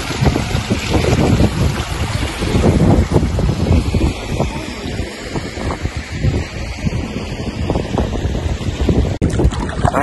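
Strong, steady wind buffeting the microphone at an outdoor lagoon overlooking the sea near Reykjavik, Iceland, a continuous low roar with gusty rumbles throughout and no voices.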